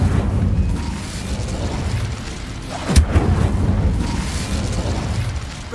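Incendio fire spell cast in Hogwarts Legacy, a sharp whooshing burst at the midpoint over a dense, rumbling game soundscape of booms and mechanical noise.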